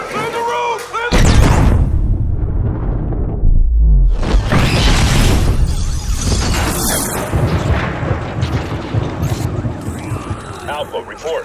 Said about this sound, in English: A body double was rigged with a remote bomb.